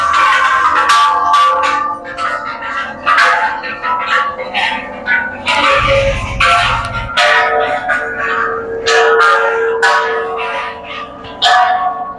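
Temple bells at the Wat Phu Khao Thong temple fair ring out in a series of bright metallic strikes, several close together, loud and near, over a busy outdoor crowd.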